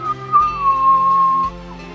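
A sustained whistle comes through a shortwave radio boosted by a small linear amplifier, holding steady for about a second over a hum-laden, static-tinged channel.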